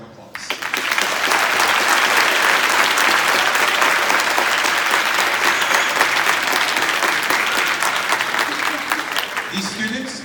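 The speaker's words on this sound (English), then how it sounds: "Let's greet and encourage all of the beginning students with a round of applause" A crowd at a summer band camp concert at Lake Mary High School gives beginning students a round of applause: loud, sustained clapping that swells quickly and holds steady for about ten seconds before tapering at the end.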